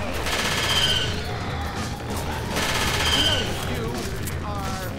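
Rapid automatic gunfire from the zombie shooter Left 4 Dead 2 comes in two long, loud bursts, with game noise between them and voices heard faintly under the shooting.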